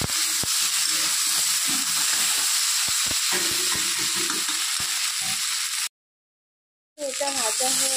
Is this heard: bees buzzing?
no